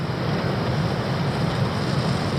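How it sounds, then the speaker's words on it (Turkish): Strong wind roars steadily into a tent pitched on the Black Sea coast during a storm, a loud continuous rushing buffet with no pauses and no voices. "Çadırın içine de çok rüzgar giriyor."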